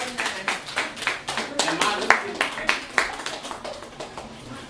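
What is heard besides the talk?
audience applause at a poetry night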